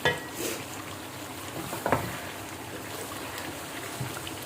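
Chicken and spices frying in a pan for a degi-style chicken qorma, with a soft, steady sizzle and occasional stirring scrapes, close and fairly quiet, no talk.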